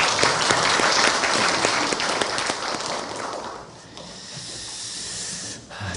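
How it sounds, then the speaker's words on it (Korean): A congregation in a university chapel claps loudly for a few seconds, then the applause thins out and fades into quiet room noise. "우리 감사의 박수 하겠습니다"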